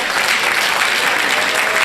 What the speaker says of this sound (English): A round of applause to Selina.